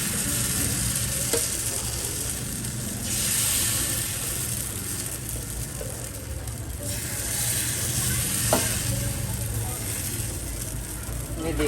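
Puda, a thin round flatbread, frying in desi ghee on a tawa, giving a steady, moderate sizzle with soft crackle and a few faint clicks throughout.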